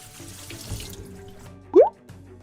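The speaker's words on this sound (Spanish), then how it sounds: "la pasáis a un colador y la aclaráis bien con agua fría para que se corte la cocción" Cold tap water runs over cooked pasta in a colander, a soft splashing stream with a brief louder gush near the end, no voices.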